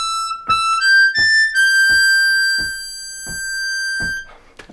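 A harmonica plays lick 3 of a song's solo, starting on a long held 8 draw and moving through a short sequence of bright notes, close and loud, with soft steady clicks keeping the beat underneath.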